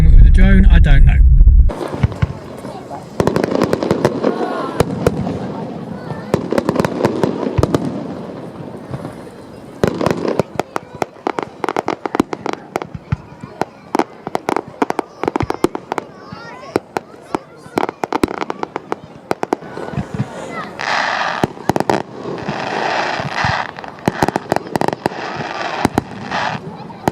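A fireworks display at Great Yarmouth goes off in loud, rapid bursts and crackling pops, some sharp bangs near and others rolling, with voices talking between and over the explosions.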